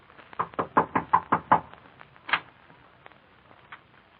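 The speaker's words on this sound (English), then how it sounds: "There's someone at the door." Knocking at a door in a vintage radio drama: a quick run of seven firm raps, then a pause and one louder knock, close and distinct, with faint follow-up taps after.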